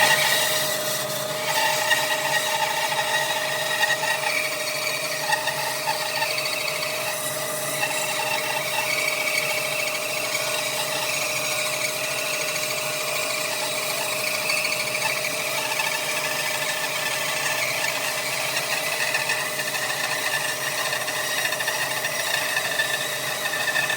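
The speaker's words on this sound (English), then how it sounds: "As you can see, it's pretty much on the limit of the bandsaw." A bandsaw cuts a thick piece of wood at the edge of its capacity, giving a continuous close whining drone with a rough rasping grind through the cut and no talking.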